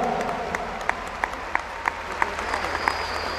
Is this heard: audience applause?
yes